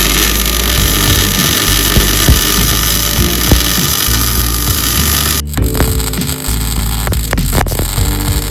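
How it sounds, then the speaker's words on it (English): A power drill bores a hole through the suspension tubes of a Nissan 240Z, a loud, steady motor whine with grinding bite against the metal. It breaks off abruptly partway through and is followed by clattering, uneven tool noise. "what you see us doing here is drilling a hole through the suspension tubes"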